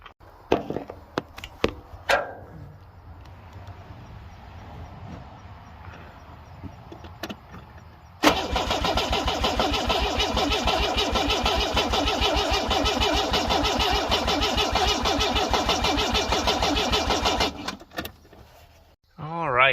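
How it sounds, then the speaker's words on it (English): A Mercedes OM617 diesel engine is cranked with the starter, with clicks and rustling first, then about nine seconds of loud rapid rhythmic churning before it stops, and a voice is heard nearby. "I'm just gonna get in and crank it for a few seconds"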